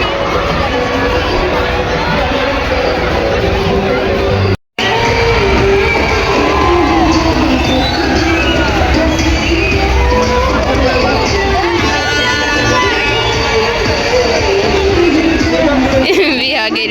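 Dense, loud crowd at the Kelve village fair, a continuous babble of many voices with children shouting and occasional whoops, broken by one brief dropout near the start.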